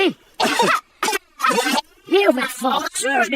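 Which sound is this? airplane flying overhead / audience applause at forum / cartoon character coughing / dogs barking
cartoon character coughing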